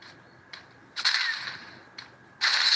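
Gunshots in the Free Fire mobile battle game, a few sharp cracking bursts spaced irregularly, the last ones louder and longer, heard alone with no talking.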